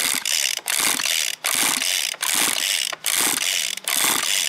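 Recoil starter on an F767 agricultural sprayer engine pulled repeatedly, about six rhythmic ratcheting pulls close by with brief pauses between, the engine not catching.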